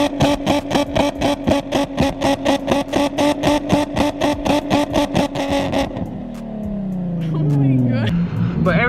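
Nissan 350Z with an aftermarket turbo kit, its engine and exhaust giving a steady pulsing idle-like throb for about six seconds, then revving and shifting pitch up and down close to the microphone.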